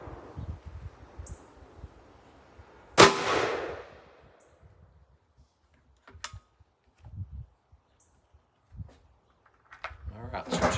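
A single sharp gunshot from a .300 Blackout rifle firing an ACME 265-grain coated lead bullet at an outdoor range cracks out loud and close, then decays into quiet ambience with faint rustles.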